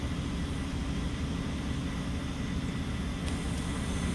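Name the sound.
Delta Airlines Airbus A321-211 jet airliner engines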